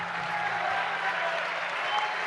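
Steady applause from a seated audience at a provincial production congress in Buenos Aires, even and sustained for a couple of seconds with no pauses.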